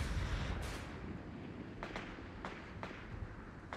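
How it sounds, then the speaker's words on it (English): Incoming mortar fire in Company of Heroes 3 during the Italian campaign battle of Agnone: a low rumbling blast fades into a run of sharp distant cracks and thumps spaced about half a second apart, faint and without speech. "Incoming mortars!"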